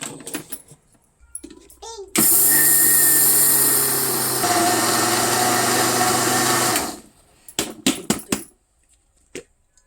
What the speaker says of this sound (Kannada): ಎಳ್ಳು ಹುರಿತಿದ್ವಲ್ಲ ಈ ಜಾರಿಗೆ ಹಾಕೊಂಡೇನಿ ಮಿಕ್ಸರ್ಗೆ ಹಾಕ್ತಾನೆ ಈಗ